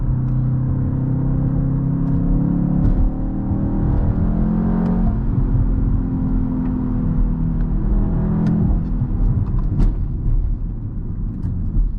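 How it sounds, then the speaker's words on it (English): A 2024 BMW X2 M35i engine in boost mode rumbles and revs steadily at close range, its deep drone rising and falling with a faint whir on top, no voices. "Here's what it sounds with boost mode on."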